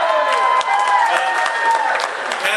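Sustained audience applause at a speech about Lebanese heritage, loud and dense clapping that holds steady with a slight dip midway.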